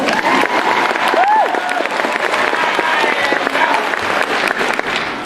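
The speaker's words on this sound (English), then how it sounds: "don't be so stingy with those applause" Applause from an Aladdin stage audience, a thick continuous wash of many hands clapping with some cheering, loud and sustained, while a short sung or voiced phrase rises briefly over it.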